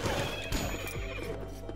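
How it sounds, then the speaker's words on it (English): In the video game Rogue Legacy, a horse is struck and wrecked: a sharp crash and thwack mixed with a loud whinny, followed by quick clip-clop-like hits over busy game sound. "I just wrecked a horse before I checked him"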